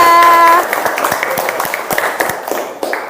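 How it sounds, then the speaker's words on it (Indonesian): Students in a classroom clap briefly together, a short scattered patter of hands following a sustained tone at the start, moderately close with faint room murmur underneath. "Tepuk tangan."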